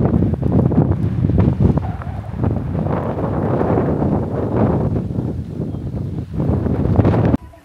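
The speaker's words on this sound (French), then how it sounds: "Il y a beaucoup de vent." Strong wind at Fort George, Scotland, beside the water, buffets the microphone in a loud, continuous roar with rougher gusts throughout and no voices, easing abruptly just before the end.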